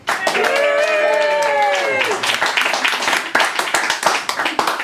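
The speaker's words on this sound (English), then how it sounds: "I'd like, before we close the evening, to ask some more applause for the guests that have joined me here tonight" An evening event audience claps for the invited guests, with a voice speaking at first, then scattered sharp hand claps carrying on to the end.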